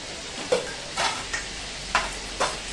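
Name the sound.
butter melting and sizzling in pan for pav bhaji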